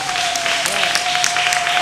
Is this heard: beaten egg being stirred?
no